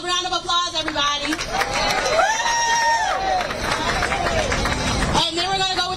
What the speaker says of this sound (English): Let's give him a round of applause, everybody.